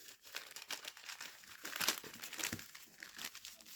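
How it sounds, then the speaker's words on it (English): Corners of a paper bag being folded in, close and quiet crinkling and crumpling with a few sharper tearing-like rustles, continuous over several seconds. "So I'm going to fold these in"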